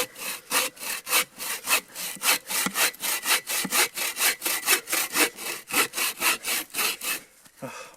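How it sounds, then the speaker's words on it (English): A hand saw cuts through wood outdoors in winter with quick, rhythmic push-pull strokes, about three each second. The rasping is loud, close and steady, with no talk. "Wow, that saw is so much better."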